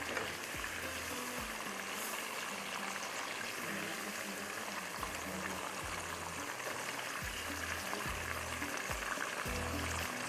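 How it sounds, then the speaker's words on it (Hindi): Onions added to a pan with chicken and frying over high flame, giving a continuous dense sizzle and bubbling with repeated low knocks throughout and no talk. "यहाँ पर हम डालते हैं प्याज, ठीक है, थोड़ा सा ये फ्राई हो रहा है।"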